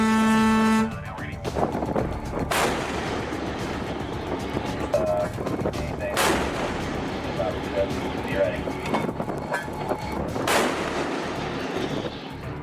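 Heavy booms from a US Navy destroyer, USS Spruance, firing shells at an Iranian cargo ship, three loud, distant-sounding blasts spaced several seconds apart over a rumbling background with a voice talking underneath.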